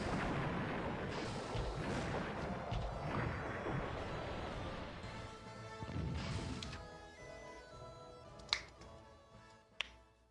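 Heavy 80-centimeter naval guns firing on a warship in Kurogane no Houkou 3: Warship Commander, deep rolling booms that fade out, then two sharp, isolated cracks near the end.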